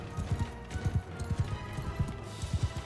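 Galloping horse hooves in the Mount & Blade II Bannerlord video game, a steady run of rhythmic clip-clop beats in repeating pairs, fairly close and continuous across the battle.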